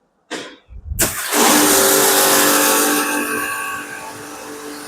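A Sugriv wall-mounted pressure washer kicks on with a short mechanical burst, then settles into a loud, steady hiss and hum as its jet sprays water onto a car, running continuously up close.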